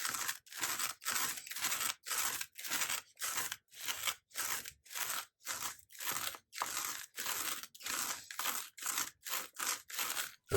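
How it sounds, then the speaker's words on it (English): A lint roller is rolled back and forth over a Cricut cutting mat, giving a steady series of about twenty sticky, crackling peeling strokes in an even rhythm, close by and without speech. "I use a lint roller to go over the whole mat"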